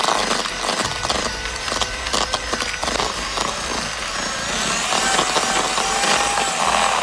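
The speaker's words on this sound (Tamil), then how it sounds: "இப்போ நம்ம இதை பீட்டரை யூஸ் பண்ணி நல்லா ஃப்ளஃபியாக வர அளவுக்கு பீட் பண்ணி எடுத்துக்க போகிறோம்" An electric beater whips butter and sugar for biscuit dough, a close, loud buzzing whir with rattling, scraping texture and a slight pitch shift near the end. It runs continuously with no voices.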